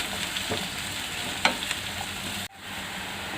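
Onions frying for chicken jalfrezi, a steady sizzle in a pan with a few light stirring scrapes, close and even, cutting off sharply near the end.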